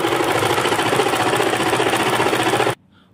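A sewing machine stitching a palazzo trouser hem runs in a fast, loud, even needle rattle close by, then cuts off abruptly near the end into near silence.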